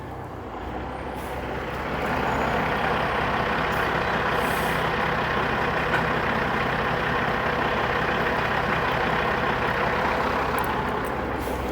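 Big truck rumbling close behind a cyclist on a Toronto road, its engine growing louder over the first seconds and then holding a steady, heavy drone with faint higher hiss.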